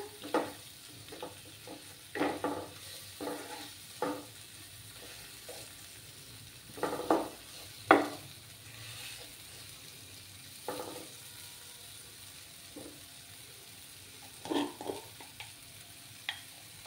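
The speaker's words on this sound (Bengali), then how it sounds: "ভালো করে ফ্রাই করে নেব যাতে কাঁচা গন্ধটা চলে যায়।" Spices fried in a pan for a vegetarian Bengali dinner dish, with a soft steady sizzle and a spoon scraping and stirring in irregular bursts, close by and with no talking.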